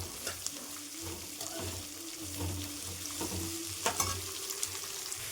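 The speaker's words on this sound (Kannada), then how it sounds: "ಈರುಳ್ಳಿನೂ ಒಂದೆರಡು ನಿಮಿಷ ಚೆನ್ನಾಗಿ ಫ್ರೈ ಮಾಡ್ಕೊಂಡ್ಮೇಲೆ" Onions frying in a pan at home make a soft, steady sizzle, with light taps and clinks of a spoon stirring them and a faint watery hiss underneath, fairly quiet throughout.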